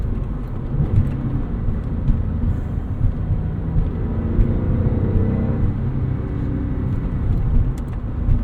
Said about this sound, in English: great induction noise from that flat six